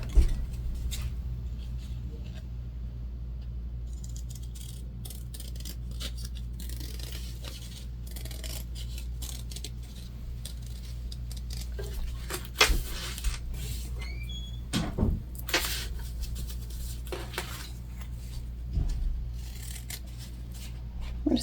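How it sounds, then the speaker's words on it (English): Scissors trim excess zipper tape from a sewn fabric pouch, giving a few soft, sharp snips spaced apart over a low steady room hum. "We're just going to trim off our extra zipper tape"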